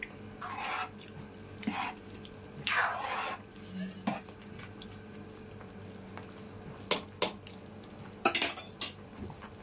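A spoon scraping and clanking in a pot as mutton biryani is stirred over a high flame, with irregular metallic knocks and a faint sizzle underneath.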